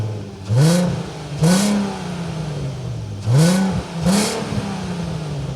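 A Volkswagen Golf Mk4 R32 with its naturally aspirated 3.2 liter six-cylinder engine blips the throttle four times, each short, loud rev rising and falling back to a steady idle.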